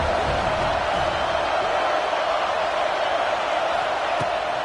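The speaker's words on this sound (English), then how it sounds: "Decibels rising as the crowd gets behind this defense on 3rd down" A stadium crowd roars on third down at an LSU versus Alabama college football game, a steady, dense wash of distant cheering and noise that holds level throughout.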